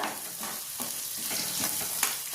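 Onions with turmeric and salt stirred in a frying pan for onion rice bath, a steady close sizzle broken by several scraping strokes of the spoon, no voices.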